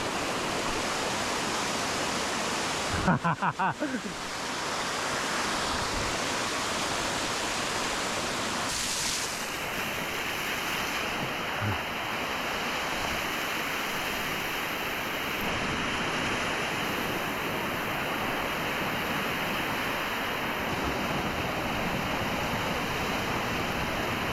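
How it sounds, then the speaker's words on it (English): A waterfall at Zigzag Falls in Tillamook Forest, Oregon, roars as a constant broadband wash heard up close from the edge, with a brief clatter of handling noise early on and a faint steady tone in the background. "Here's yet another example of me approaching the edge of a waterfall"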